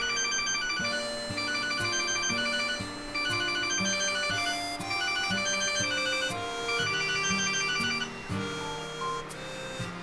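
A melodic phone ringtone repeats a tinkling chime pattern over and over for about ten seconds at steady volume, with no talking over it.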